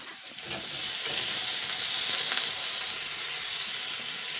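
Steady sizzling hiss of potatoes frying in a pan as raw tomato goes in, a continuous close crackle with a few brief stirring scrapes and no talk.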